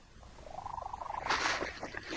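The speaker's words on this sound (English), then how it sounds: "Cats have perfected a purr that we find impossible to ignore." A domestic cat purrs close by in a steady pulsing rumble, with a higher, whining tone woven over it and a louder burst toward the end. No one speaks.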